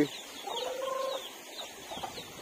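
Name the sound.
chicken clucking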